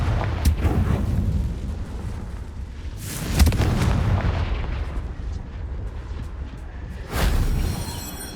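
Confringo spell blasts in the Hogwarts Legacy video game, heavy booming explosions with loud bursts near 3.5 and 7.2 seconds over a continuous rumbling backdrop of game effects.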